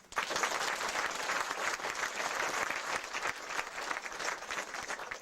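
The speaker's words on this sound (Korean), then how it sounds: "박수 한번 하십시오." A church congregation at a dedication service for a new hall breaks into sustained, full applause, a dense, even roar of many hands clapping that holds steady throughout at moderate loudness with no talk over it.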